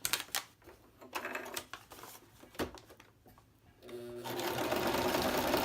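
Sewing machine stitching the pockets of a craft project, running in short bursts that stop and start and ending in a loud, sustained run of stitching, close by.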